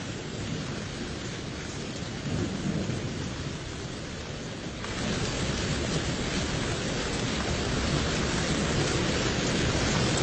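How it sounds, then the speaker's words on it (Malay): Heavy night rain pours down in a dense, continuous roar that grows louder about halfway through, with a low rumble of thunder underneath. "Hujan lebat"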